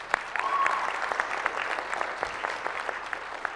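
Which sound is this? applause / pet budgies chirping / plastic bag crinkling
applause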